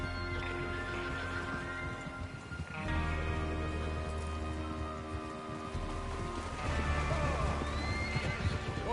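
In the video game Red Dead Redemption 2, horses whinny and neigh while hooves clip-clop steadily, with rain pattering in the background throughout.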